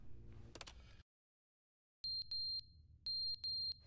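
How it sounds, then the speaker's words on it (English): A high electronic alarm in the video game The Stanley Parable sounds in short repeated beeps, clustered in quick pairs and triplets after a brief clatter and a second of silence. "There's a beeping. Why is there a beeping?"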